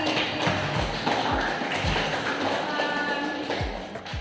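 A classroom gives a steady round of applause, dense and even clapping from many students that lasts the whole time without a pause.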